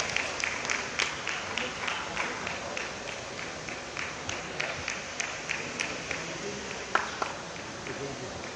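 An audience at a book launch during a 2019 literary award ceremony claps steadily, a dense, even patter of many hands continuing throughout the clip without a break.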